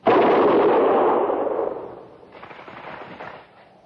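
Cannon volley in an old-time radio drama set at Fort Laramie: a loud booming blast with a rumbling roll that decays, followed by a second, softer rumble and crackle.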